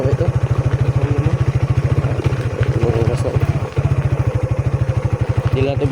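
A motorcycle engine chugs with a steady, rapid low pulse, close and continuous throughout the ride, while faint voices sit underneath.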